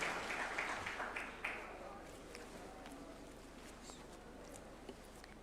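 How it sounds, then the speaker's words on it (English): Applause rises at a judges' swearing-in ceremony at State House in Nairobi, a burst of clapping at the start that quickly fades to a low murmuring room with scattered faint sounds. "A round of applause, please, as she approaches the swearing-in arena."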